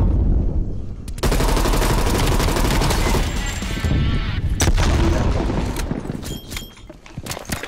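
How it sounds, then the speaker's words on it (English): Loud bursts of gunfire, booms and chaotic combat noise erupt in a Black Ops Cold War multiplayer match as a stun grenade is thrown, with sharp cracks and explosions piling up and fading toward the end. "Stun grenade out"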